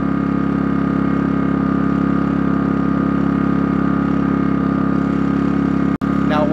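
A Pulsar G2319N inverter generator runs in high RPM mode, a steady loud droning hum with a strong tonal whine, close and constant, broken only by a brief click near the end.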